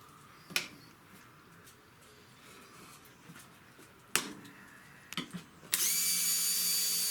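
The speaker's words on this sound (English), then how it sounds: "he's gonna be drilling 13-inch pieces" A power drill whirs loudly and steadily near the end, drilling 13-inch wooden pieces for tomato cages in a home garage, preceded by a few sharp knocks and clatters of wood.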